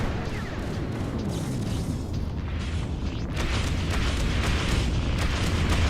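An incoming missile strikes in the space game Freelancer with a deep, rumbling explosion, a sustained roar of low boom and debris hiss that swells louder partway through, with no talk over it.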